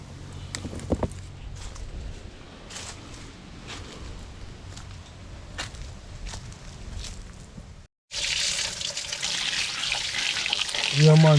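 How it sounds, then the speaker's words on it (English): Star fruit is rinsed under running water, a steady splashing gush that starts abruptly after a brief silence, preceded by light handling clatter. "so I wash off the fruit"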